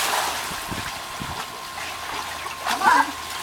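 A child jumps into a swimming pool in Florida, making a single splash near the end of the moment, with children's voices and water noise around it.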